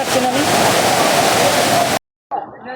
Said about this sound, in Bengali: পানির স্রোতে পাথর সব হয়ে গেছে, পানির স্রোত অত্যন্ত স্রোত এদিক দিয়ে